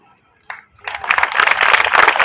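An audience at a beauty pageant bursts into applause after a brief pause, the clapping building quickly into a steady, moderately loud wave of many hands.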